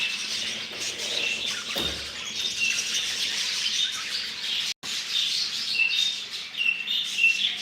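Agitated birds chirping and squawking nearby, high repeated calls over a steady background hiss, with one sharp click partway through.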